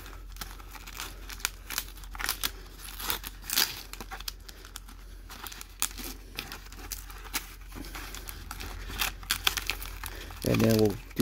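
Trash Pack trading card packs being torn open, with bursts of foil crinkling and tearing close by, mixed with intermittent talk.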